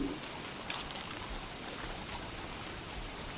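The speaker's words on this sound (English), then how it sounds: "it's raining now, again" Rain in the video game Don't Starve, a soft, even hiss of falling drops that holds steady throughout, quiet and with no talk over it.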